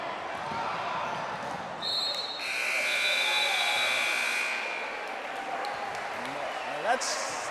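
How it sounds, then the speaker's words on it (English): A basketball game's end buzzer blares as a loud, sustained electronic tone over gym noise, lasting a couple of seconds, followed by a brief bounce near the end. "that's the buzzer for the first of our 3 contest games tonight"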